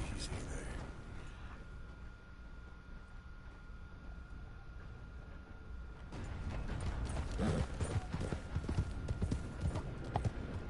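Horse hooves galloping in the video game Red Dead Redemption 2: a steady, rapid clip-clop that runs through the whole stretch and grows louder and busier in the second half.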